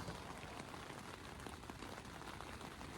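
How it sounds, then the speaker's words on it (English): Steady rain pours down during an all-night rain on a backpacking trail in the mountains, a dense, even hiss of drops hitting surfaces without pause. "literally rained all night. Just all night. And it's still raining."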